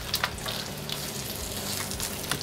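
Bacon fries in a pan with a steady close sizzle and crackle, a few sharper pops and scrapes rising above the constant hiss.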